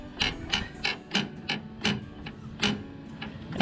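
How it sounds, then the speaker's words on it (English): Steering gear on a John Deere LA130 100-series riding mower clanks against the underside of the mower deck, a series of about ten sharp metallic knocks in an uneven rhythm, close and fairly loud, with no talk. "That clank is the steering gear wobbling either way when you put tension on it and coming up and hitting the underside of the mower"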